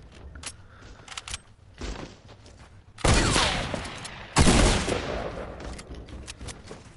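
Two heavy shotgun blasts boom out in a video game, each a loud broadband burst with a decaying tail, separated by about a second and a half, over quieter game clatter.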